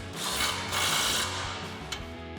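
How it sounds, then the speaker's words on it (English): Impact wrench with a 21mm socket tightening a tie rod nut on a Ram 1500 during a suspension lift install, delivering rapid rattling hammering bursts with brief pauses, close and fairly loud. "we're gonna grab our impact and 21mm socket and tighten our tie rod nut down"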